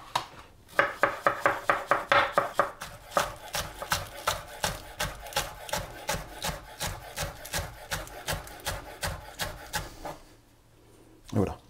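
Fresh chives chopped by hand with a knife on a cutting board for Norwegian fish cakes: a long, steady series of crisp, rhythmic knife taps, close and loud, about two per second, then a brief pause.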